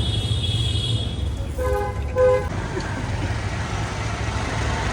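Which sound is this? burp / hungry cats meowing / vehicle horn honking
vehicle horn honking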